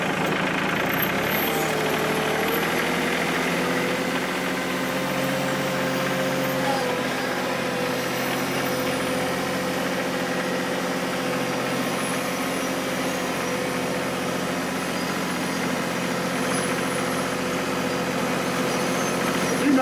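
A farm tractor with loaded tires runs at a steady, rumbling idle on a homestead, a continuous close engine drone with no talk over it.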